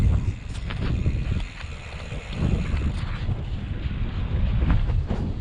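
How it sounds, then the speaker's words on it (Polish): Steady wind roars and buffets throughout, a dense rushing noise with gusty swells and no clear voices. "wiatr jest tak jak cały czas, nie zmienił kierunku"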